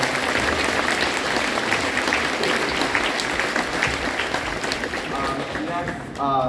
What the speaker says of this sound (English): can we give a round of applause to our building principal?